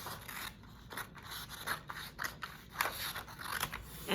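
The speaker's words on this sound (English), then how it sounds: "you're gonna take the construction paper and cut it in half" Scissors cutting a sheet of construction paper in half, with a run of crisp, close snips and slicing scrapes in a steady rhythm.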